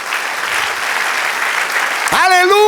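A church congregation applauds steadily and loudly, a dense wash of clapping, and near the end a voice rises in an exclamation over it.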